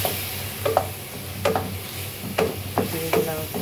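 Cumin sizzles in a cooking pan while a utensil stirs it, giving several sharp scraping strokes over a steady frying hiss, close and clear, with no talking.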